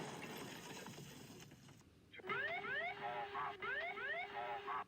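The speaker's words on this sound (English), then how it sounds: "Oh no, my bank angle alarm." A bank angle alarm sounds in a flight simulator video game, entering abruptly after a stretch of rushing wind noise as loud, repeated rising electronic sweeps over a steady tone.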